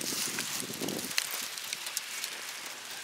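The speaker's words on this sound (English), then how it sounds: "You're getting covered with hail." Hail falls outdoors from a clear sky, a dense patter of small hard impacts with scattered sharper ticks, steady and fairly near, with a rumbling layer fading out after the first second.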